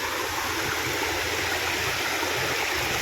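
A forest stream in the Girnar hills, on a path leading to a stepwell, rushes and gurgles in a steady, dense, close wash of flowing water that continues without a break.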